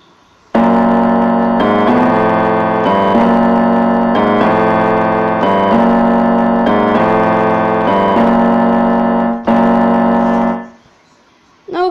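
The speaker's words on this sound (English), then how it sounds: "Okay, so that was me playing the piano." A tune is played on a piano in full sustained chords, loud and close, several phrases in steady rhythm before ringing out into silence.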